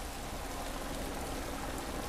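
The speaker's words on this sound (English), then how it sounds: "The rain has been falling non-stop for a few hours now" Heavy rain at the Assen circuit in the MotoGP 17 racing game, a steady dense wash of falling water that stays loud and constant throughout with no voices.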